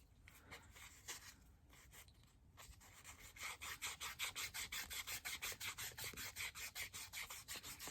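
Hand rubbing and polishing the end grain of a turned wooden Christmas ornament off the lathe: a steady run of rhythmic rasping strokes, faint and hesitant at first, then regular back-and-forth rubs, close up with no talk.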